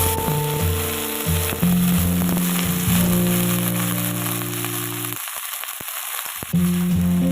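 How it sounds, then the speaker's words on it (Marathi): Garlic pieces sizzle in a hot oil tempering before saratya greens go in, a steady loud frying hiss with a clack of the spoon, a brief near-silent gap, then the sizzle surging back. "लसणाचे तुकडे जरासे लाल झाले की त्यामध्ये आपण भाजी टाकून घेणार आहोत"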